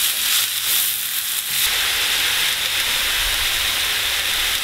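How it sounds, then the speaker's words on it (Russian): Potatoes fry with onion in a pan, giving a loud, close, continuous sizzle and steamy hiss with a few clatters of stirring early on, and no voices. "И буквально 2 минуты обжариваем вместе с луком."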